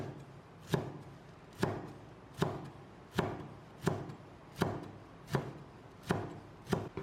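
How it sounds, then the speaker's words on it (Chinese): A knife chops through a leek into thick slices, nine crisp, evenly spaced cuts landing on a board, close and clear with no voices. "现在再准备1段大葱，把它切成厚片"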